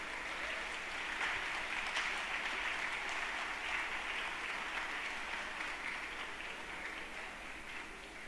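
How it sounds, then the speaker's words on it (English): Audience applause for moderators and panelists at a live panel event, a steady wash of clapping held for over eight seconds and slowly fading at a moderate distance. "A huge round of applause, guys."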